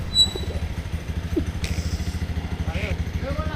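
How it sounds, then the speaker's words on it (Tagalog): Motorcycle engine idling and puttering steadily during riding practice, moderately near, with a light thump and faint background sounds. "Magpa-practice ako magmotor."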